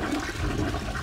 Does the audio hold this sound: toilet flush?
yes